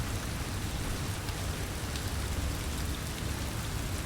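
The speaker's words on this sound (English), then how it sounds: "Oh yeah, the thunder sound effects are really great in this game." Steady, dense rain from the video game Trainz 2019 hisses continuously at an even, loud level, with a faint low rumble of thunder underneath and no voices.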